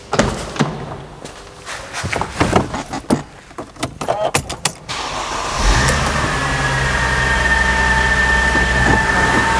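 A Mercedes car engine, one that fails to crank when hot, starts after a few clunks and clicks, then settles into a steady, close idle while warming up, with a constant hum and faint high whine.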